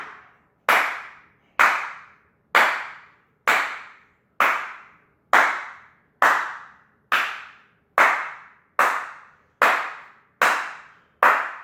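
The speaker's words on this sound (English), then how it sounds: "Clap with me, clap with me." A single person's hand claps during a morning exercise warm-up, a dozen crisp, evenly spaced claps about one per second, close and loud with nothing else heard.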